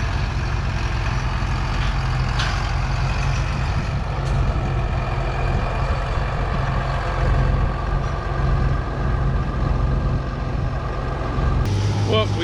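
An 8400 farm tractor approaches, its heavy diesel engine rumbling loud and steady throughout with a deep low drone. A person talks over the engine.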